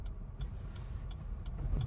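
A car engine hums low and steady at close range during a beginner driving lesson, as the car speeds up and shifts into second gear; the rumble stays quiet and even, with faint ticking above it.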